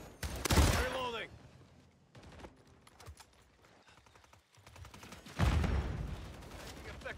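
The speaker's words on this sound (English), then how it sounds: "Making effective fire!" Bursts of automatic gunfire in Call of Duty Modern Warfare 3 multiplayer, with loud rattling volleys at the start and near the end and scattered shots between, mixed with game voice callouts.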